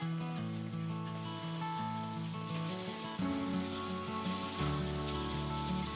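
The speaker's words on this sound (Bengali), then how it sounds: "তারপর এখানে দিয়ে দেবো আগে থেকে ম্যারিনেট করে রাখা চিংড়ি মাছগুলো। চিংড়ি মাছগুলোকে একটু ভেজে নিতে হবে।" Marinated prawns go into hot oil in a wok, giving a steady, close sizzle of frying with no talk; the hiss swells slightly louder partway through as more prawns hit the oil.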